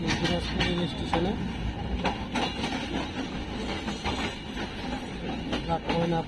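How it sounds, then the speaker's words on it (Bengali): A train pulling slowly into the platform at Dinajpur railway station, with rhythmic wheel clatter, metallic clanks and rumble, loud and near, while people talk over it. "এই যে প্ল্যাটফর্মে ঢুকতেছে ট্রেন।"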